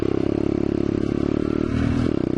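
A worn-out 125cc dirt bike engine with almost no compression chugs at close range with a rough, clattery, uneven putter.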